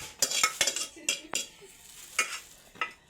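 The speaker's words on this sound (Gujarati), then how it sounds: "આપણે પાસ્તા કાઢી દઈએ ઠારવા ડીશમાં એક." Cooked pasta being scooped out into a dish, with metal utensils scraping and clinking against cookware: a series of sharp, close clatters, irregular and spaced out, with quiet gaps between.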